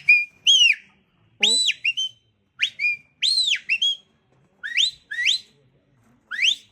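A shepherd's series of sharp, rising two-note whistle commands to a sheepdog, repeated in short bursts, loud and close, with a brief spoken exclamation in between.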